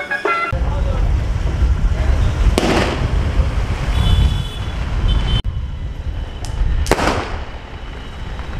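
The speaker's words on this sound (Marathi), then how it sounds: "फटाक्यांचा आवाज एवढा तगडा येतोय ना" Diwali firecrackers going off outdoors on a windy night, with a few sharp cracking bursts standing out over a constant rumbling, wind-buffeted background of distant explosions.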